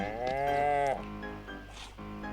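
A cow in The Sims 4 farm game gives a long, loud, harmonic moo, followed by quieter lowing and soft background farm ambience.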